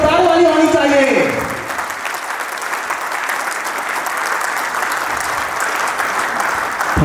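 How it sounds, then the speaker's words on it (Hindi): An audience applauds loudly at an indoor training session in Patna, dense sustained clapping that follows a brief voice at the start and stays strong to the end. "तो आप सभी की क्लैपिंग जोरदार वाली होनी चाहिए।"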